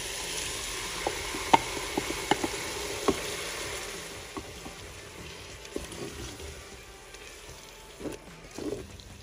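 Chicken and blended peeled tomato cooking in a Cookeo, a soft steady sizzle with scattered small pops and crackles and a few stirring squishes, fairly quiet and without talk.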